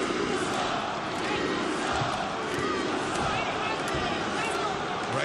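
A crowd at a Bellator MMA 267 arena event roars and cheers in a steady, dense wall of noise that holds without a break.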